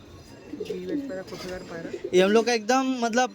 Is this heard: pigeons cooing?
yes